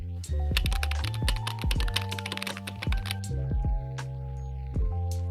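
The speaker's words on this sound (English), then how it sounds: "Okay, let's type the prompt." Typing on a computer keyboard at a desk: rapid, close clicking keystrokes in an uneven flurry, then a few slower, spaced presses near the end, with no talking.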